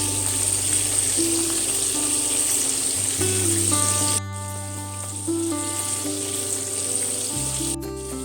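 Calamari fries in hot oil over a medium flame, giving a steady, close, dense sizzle that runs throughout, with a faint background hum and no voices.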